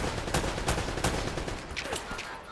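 Rapid gunfire in the Uncharted action game, a dense run of sharp shots and bursts over a noisy battle background, loud and close, with no clear speech.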